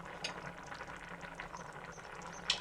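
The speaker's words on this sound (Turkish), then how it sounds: "Pilav fokurdamaya başladı." Soft, steady bubbling and simmering of chickpea and chicken rice pilaf in a pot, a low continuous gurgle with occasional faint pops and a brief sharper click near the end.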